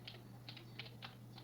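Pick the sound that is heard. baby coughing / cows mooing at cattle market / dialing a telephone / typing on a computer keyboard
typing on a computer keyboard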